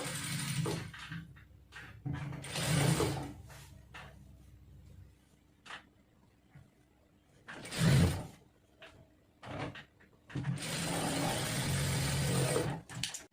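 A sewing machine stitches a blouse sleeve in several short bursts of whirring, separated by quiet pauses with clicks and fabric handling, the final run longer and steadier.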